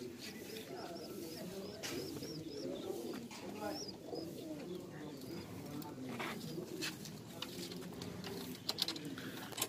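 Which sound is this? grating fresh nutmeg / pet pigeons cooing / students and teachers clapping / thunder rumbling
pet pigeons cooing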